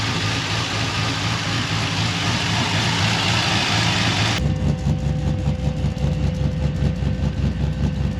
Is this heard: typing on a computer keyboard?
no